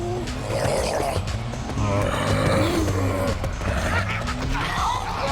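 A vehicle drives through a horde of zombies in the game Garry's Mod, its engine droning steadily with tire squeals and thuds of impacts over a busy, constant game soundscape.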